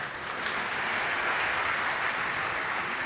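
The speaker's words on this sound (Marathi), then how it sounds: "लोकांनी एवढ्या टाळ्या वाजवल्या" An audience at a jewellery firm's 190th anniversary event in Sangli claps in a dense, sustained wash of applause, steady and fairly loud for the whole stretch, with no voices over it.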